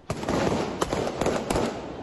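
Rapid bursts of gunfire crackle continuously, a dense string of sharp reports echoing at a distance, with no talking.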